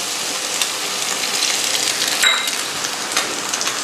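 Eggs and shiitake mushrooms fry in a wok over high heat, giving a steady, loud hiss and sizzle with faint clinks from the pan and no talking.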